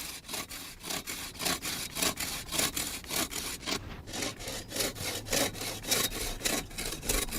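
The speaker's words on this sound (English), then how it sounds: "In the meantime, Ludwig Listener has started the willow trunk into individual sawing pieces of wood for the rake teeth." A hand saw cuts a willow trunk into pieces for wooden rake teeth, making steady, rapid back-and-forth strokes that sound close and even, with no talking.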